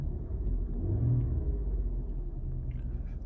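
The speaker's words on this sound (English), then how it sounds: "We got the engine running." A 2016–2018 second-generation Lincoln MKX engine runs with a low, steady rumble that swells slightly about a second in, then settles back to an even idle, heard close with no talking.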